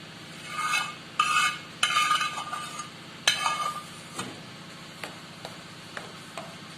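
Someone stirs a batter of broken wheat mixed with fried coconut in a metal bowl, making irregular scraping clinks and taps with a few louder knocks. The strokes are close and come in uneven bursts, with no one speaking.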